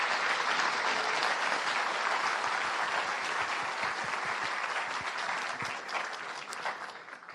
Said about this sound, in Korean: 먼저 소개 전에 박수 한번 부탁드리겠습니다.